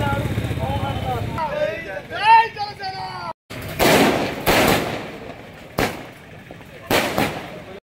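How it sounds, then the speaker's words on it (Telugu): Party workers set off firecrackers in celebration at the old bus stand area in Gudur town, several sharp loud bangs and crackling bursts following someone speaking at the start. "పార్టీ నాయకులు, కార్యకర్తలు బాణసంచా పేల్చి సంబరాలు జరుపుకున్నారు."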